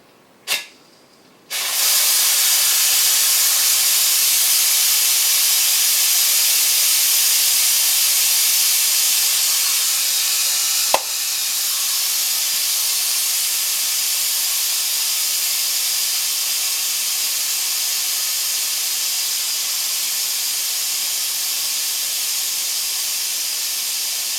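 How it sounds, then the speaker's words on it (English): Loud, steady steam hiss pours from a tattoo equipment sterilizer as its pressure is released, starting abruptly after a brief click and holding at an even, broadband level for over twenty seconds with a small pop midway. "We're releasing pressure right now"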